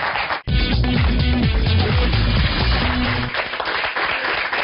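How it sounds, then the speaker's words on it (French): A studio audience gives warm applause to welcome guest Christophe Lambert on a French web show, a thick, continuous wash of clapping with a brief dip at the start while music plays underneath. "De chaleureux applaudissements pour Christophe Lambert."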